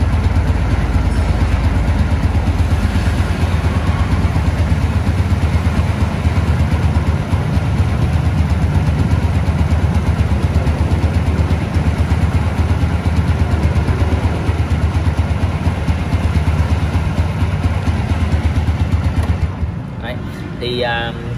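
Honda Wave S motorcycle engine idling, a loud steady low rumble running smoothly and evenly for most of the time before dropping slightly near the end.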